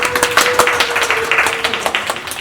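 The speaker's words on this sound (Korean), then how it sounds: "큰 박수 부탁드립니다" A small audience at a musical's talk program applauds its guests, a science communicator and a writer, with close, distinct claps in a lively, uneven patter and a faint tonal hum underneath.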